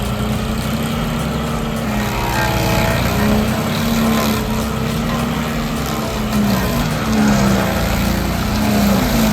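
A compact tracked wood chipper's engine runs steadily at close range, a loud continuous droning hum with no talk over it.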